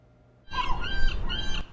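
Seagulls call near a ferry dock where an old motel once stood. After a quiet start, several loud, harsh squawks and cries sound close by in quick succession.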